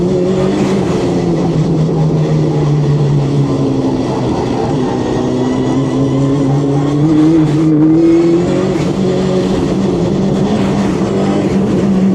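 A 600hp Ford Escort race car on track, its engine roaring loudly and continuously with a whining transmission, pitch rising and falling through gear changes and a corner.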